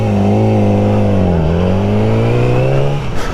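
A nearby Yamaha R6 motorcycle engine drones steadily, dips briefly, then rises again before cutting off abruptly near the end.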